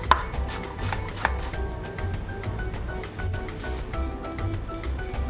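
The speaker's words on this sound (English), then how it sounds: "I'm going to slice the parsley, fresh." Fresh parsley chopped with a knife on a cutting board during risotto prep, a steady run of close, crisp blade taps and thuds repeating quickly without pause.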